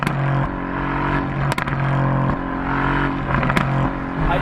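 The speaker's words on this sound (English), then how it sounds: "It's all about that exhaust sound." A 2018 Mercedes-AMG GT C Roadster exhaust drones loudly and steadily up close, with a deep sustained engine note broken by brief pops or crackles.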